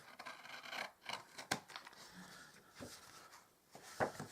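Paper pieces being trimmed off a butterfly light box with a blade or scissors, giving soft, close rasping cuts and rubs, a few sharper snips standing out, quiet and alone.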